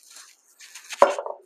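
A wire whisk stirs sour cream into chocolate cake batter in a bowl, giving a few faint brushing strokes and then a sharp metallic clink with a short scraping tail, all close up and brief.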